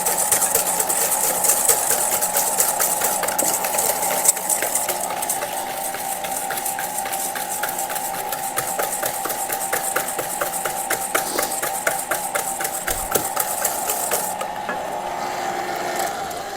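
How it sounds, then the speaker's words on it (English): An electric mixer whisks egg whites with sugar in a steady, continuous mechanical whir with a fast rhythmic beating texture, close and fairly loud, cutting off near the end; no voices. "we're going to whisk this until it's nice and light and frothy"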